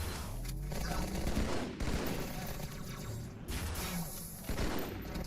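Dense rapid gunfire from a Halo 2 firefight rattles almost continuously, with bursts of shots and broken pauses near the two-second and four-and-a-half-second marks, loud and close without talk.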